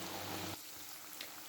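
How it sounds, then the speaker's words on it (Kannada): Potato bites fry in hot oil until golden brown, giving a soft, steady sizzle that is louder for the first half second and then settles into a faint, even hiss. "ಸೊ ಒಂದು 5 ಮಿನಿಟ್ಸ್ ಗೋಲ್ಡನ್ ಬ್ರೌನ್ ಬರೋ ತನಕ ಇದನ್ನು ಫ್ರೈ ಮಾಡ್ಕೊಳ್ಳೋಣ"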